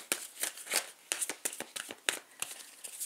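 A tarot card deck being cut and handled, with soft, close riffling and slapping of cards in quick irregular bursts and no talking over them.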